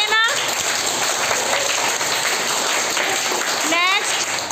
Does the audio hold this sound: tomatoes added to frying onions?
no